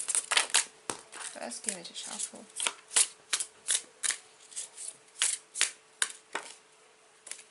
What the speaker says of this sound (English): Let's give it a shuffle.